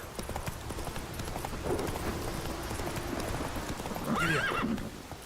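A horse in the video game The Witcher 3 clip-clops along at a steady pace and gives a loud neigh near the end, with brief speech partly over the hoofbeats.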